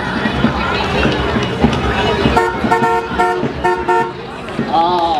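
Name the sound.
vintage car driving in a parade, honking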